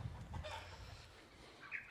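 Chickens cluck softly in the distance, a few short calls over a low hum, with a higher squawk near the end.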